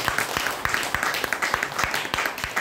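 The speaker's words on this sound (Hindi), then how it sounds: "एक बार जोरदार ताली रिएक्शन के लिए।" Audience applause at a presentation: a steady wash of clapping with some sharper individual claps standing out, moderately loud and continuous throughout the short burst, with no talking over it.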